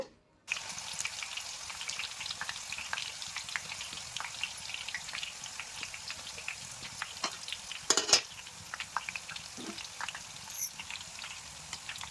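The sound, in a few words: banana chips deep frying in oil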